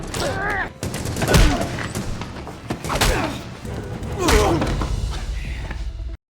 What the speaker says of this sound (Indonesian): beberapa pemberontak mencoba menembakkan rudal ke arah gedung tempat di mana Thomas dan Teresa berada